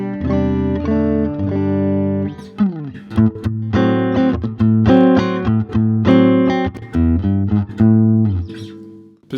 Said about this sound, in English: Then we've got the middle position